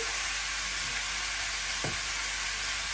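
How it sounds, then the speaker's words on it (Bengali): Vegetables with salt frying in a pan, a dense, steady hiss of sizzling oil that holds evenly throughout, with one brief soft knock near the middle. "সবজিটা কষাই নেই, তারপরে হলুদ মরিচটা দিলে সামান্য একটুখানি করে দিই, একটু কষানো ভাজা ভাজা হোক।"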